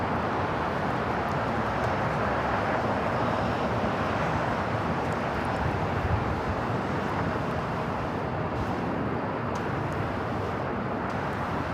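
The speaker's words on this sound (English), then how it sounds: "China Airlines, the A350, making its way over here to the south side" A China Airlines Airbus A350-900 jet moves about the south side of LAX, heard as a steady, broad roar that stays constant throughout, with the distant jet noise blending into the airport wash.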